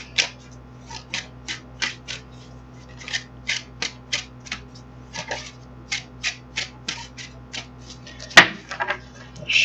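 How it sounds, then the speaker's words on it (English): Tarot cards riffled and shuffled in repeated short bursts, each a crisp papery flutter at close range, with a sharper snap near the end. "shuffle them again."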